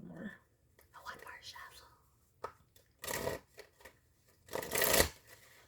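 Tarot cards being shuffled in bursts, with two loud riffling flurries after quieter handling and soft murmured whispering between them.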